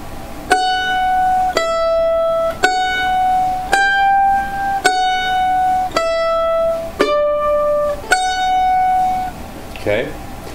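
Mandolin playing part of the A section of the fiddle tune Liberty slowly, eight evenly spaced plucked notes or double stops ringing clearly and alone, ending with a faint touch at the close.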